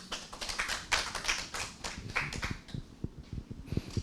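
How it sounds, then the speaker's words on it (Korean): Audience at a Korean policy forum session clapping to welcome a presenter to the podium, a sustained patter of hands in a conference room that thins to scattered claps. "여러분 큰 박수로 환영해 주시죠"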